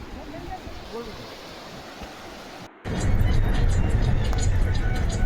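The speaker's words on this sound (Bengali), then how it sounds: "জলের আওয়াজ শুনতে পাচ্ছেন আপনারা?" The Kameng river rushes below a swaying suspension bridge in Arunachal Pradesh, a steady broadband roar that suddenly grows louder and nearer partway through, with wind buffeting the microphone.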